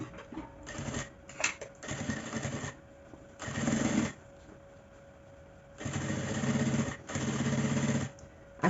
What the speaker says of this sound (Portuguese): Agora a gente vai fazer aqui a costura de acabamento desse outro lado.